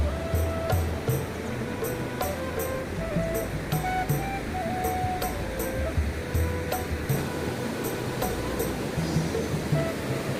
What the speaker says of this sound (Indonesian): Dan di pinggirnya itu ada sungai ya.